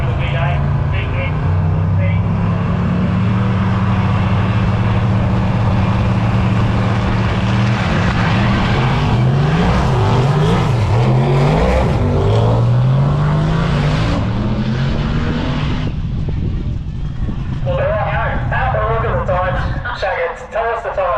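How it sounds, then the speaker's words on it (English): V8 drag racing cars launch off the start line at Palmyra Dragway. Engines roar and rise in pitch through the gears, loud and close. A commentator's voice runs over the engines, and the sound fades near the end. "Get off the start line without spinning those tyres."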